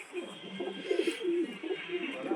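Kabita pigeons in a loft give soft, low, repeated coos, several close overlapping calls in a short burst against a quiet background.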